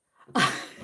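A single sharp human sneeze, close and fairly loud, with a faint inhaling build-up just before the burst and a short breathy tail fading out afterward.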